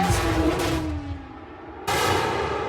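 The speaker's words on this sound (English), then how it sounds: "The collision was unavoidable." Race car collision at about 230 km/h in a crash reconstruction: a loud impact burst, a fading metallic ring with a falling tone, then a second abrupt loud burst.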